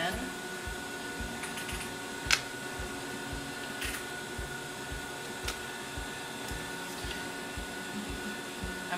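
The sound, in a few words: sewing machine sewing bias tape on Hong Kong seam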